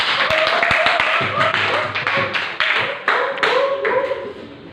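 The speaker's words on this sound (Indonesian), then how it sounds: "Beri tepuk tangan." Clapping from students in a classroom, starting with a few sharp individual claps that grow into a fuller round of applause, loud and close.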